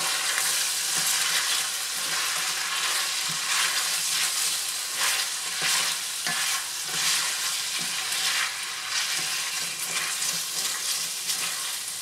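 Pork and vegetables for rice noodle pansit fry in a pan, giving a continuous, dense sizzle with scattered crackles and light stirring scrapes throughout, close and steady with no talk.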